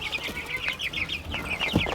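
Birds clucking in a mesh enclosure, with a rapid series of short, chirpy clucks close by and a few soft thumps and rustles beneath them.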